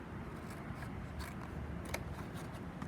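Scissors snip through paper while a nose cone is cut for a water bottle rocket, a few quiet, close crisp cuts over low background rustle.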